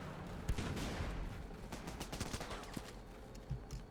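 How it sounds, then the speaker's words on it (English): Rapid bursts of video game gunfire in Running with Rifles crackle steadily throughout, punctuated by a few louder single shots, sounding like a dense firefight. "It's kind of cool seeing the gunshots go towards the camera."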